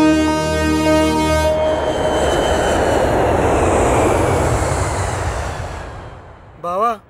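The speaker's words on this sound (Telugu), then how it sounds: "ఫ్లైట్ వచ్చేసింది" A loud, sustained aircraft engine roar with a whining tone as an airplane arrives overhead, swelling and steady for several seconds before fading, followed by a brief different sound at the end.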